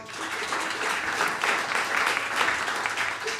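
Audience applause and clapping for a fiddle band member at a live bluegrass radio show, a steady, dense wash of many hands, loud and sustained throughout without talk.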